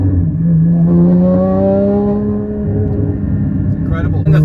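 Porsche GT4 fitted with the Fabspeed Motorsport GT450 race performance package and a stage 2 91 octane Cobb tune, accelerating hard from inside the car, the loud engine note climbing steadily in pitch through the gear.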